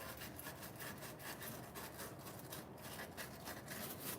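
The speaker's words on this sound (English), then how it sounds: "get you a little piece of emery cloth" Emery cloth rubbed by hand over metal on a vehicle differential housing to clean up small burrs, a steady rasping scrape in quick back-and-forth strokes, close and continuous with no talking.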